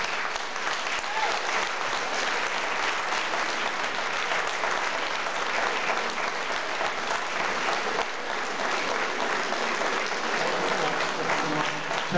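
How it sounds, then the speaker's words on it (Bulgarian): Sustained applause from an audience for the vocal group New Voices, dense and steady throughout with no talk over it. "Вашите аплодисменти за вокална група Нови гласове."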